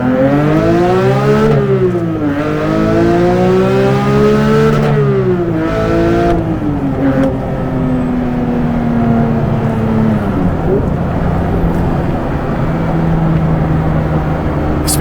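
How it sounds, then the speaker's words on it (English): Porsche 911 GT3 engine accelerating hard through the gears: a loud, close flat-six rising in pitch with each gear, sharp drops at the upshifts, then a steady cruise with road noise. "Running through this gears just does not get old."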